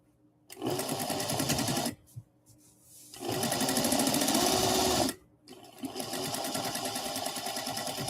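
A sewing machine runs in three bursts while stitching a pillowcase seam, each a rapid, loud mechanical chatter lasting a few seconds, separated by short pauses with soft handling noises.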